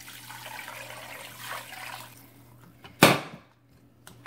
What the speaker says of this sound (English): And I'll go ahead and add 2 more cups of water